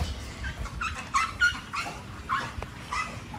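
An American Bully dog gives a string of short yips and whimpering barks at close range over a steady low background rumble, with no talking.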